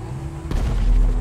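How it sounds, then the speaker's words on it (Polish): A single deep, rumbling boom from the video game GTA 5 Online bursts in partway through and rolls on as a low, heavy explosion. "O, jakie wybuchy."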